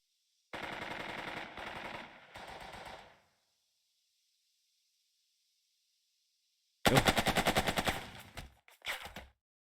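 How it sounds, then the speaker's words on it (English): Machine gun fire in the World War I strategy game Burden of Command, with three rapid rattling bursts, then a pause of near silence, then a louder burst trailing into scattered shots, close and unaccompanied by talk. "And fire with the machine guns."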